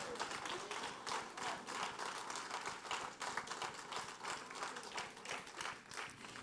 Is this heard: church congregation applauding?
yes